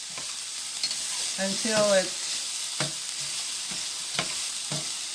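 Garlic stirred in a hot pan sizzles steadily at close range, with soft scraping strokes and a short burst of louder frying partway through; a single word is spoken briefly.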